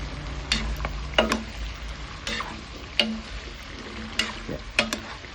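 Broccoli frying in butter in a pan, stirred with scraping clinks at intervals over a steady low sizzle, fairly close.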